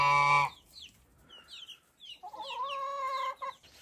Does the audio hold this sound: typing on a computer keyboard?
no